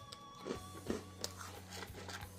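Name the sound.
crunching on MRE patriotic cookies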